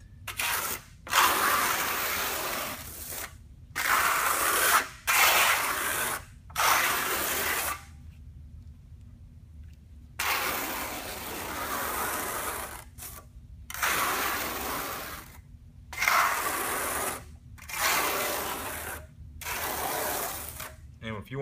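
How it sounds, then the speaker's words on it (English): A trowel scrapes Super-Krete Bond-Kote tightly across a board. Repeated gritty rasping strokes, each a second or two long, are separated by short silences, with one longer pause midway. "And just take your trowel and go as tight as you can. You can hear that scraping."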